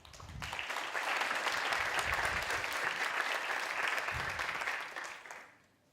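Audience applause welcoming Professor Jeffrey Sachs as opening international keynote speaker at a conference session, a steady, full burst of clapping from a sizable crowd lasting about five seconds before fading out.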